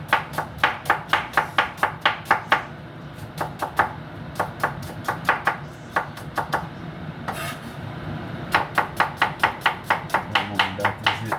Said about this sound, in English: Make sure I cut up my onion properly.